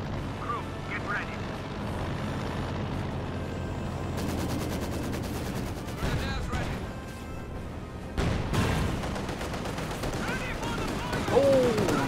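Strafing gunfire and explosions in the strategy video game Company of Heroes 2, with sharp bursts and crashing impacts over a dense battlefield rumble and aircraft drone, while a commentator talks throughout.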